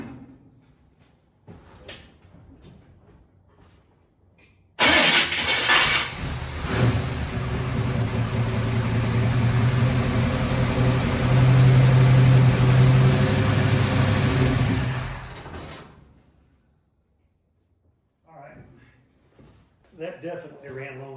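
An old carbureted car engine cranks, catches and runs roughly for about ten seconds, loud and close, then cuts out to silence; a person speaks briefly before and after.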